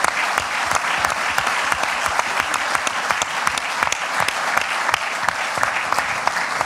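Audience applauding two former teachers at a 50th-anniversary round table for Clairefontaine, a steady, close round of many hands clapping with distinct individual claps audible across the whole stretch, alone without talk.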